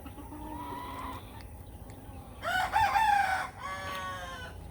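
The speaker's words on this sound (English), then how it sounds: "All the roosters are frisky in the morning." Rooster crowing on a farm kept with turkeys, ducks, geese and hens in the morning, a fairly close, loud crow rising over a fainter earlier crow, with birds calling in the background.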